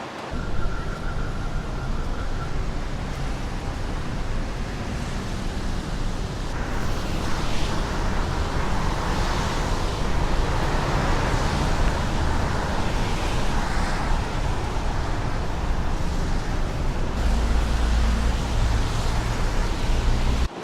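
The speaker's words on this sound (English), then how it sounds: "lots of motorcycles." Dense street traffic in Bangkok with many motorcycles rumbles continuously with a broad wash of engine noise and passing vehicles, steady and fairly loud with no voices.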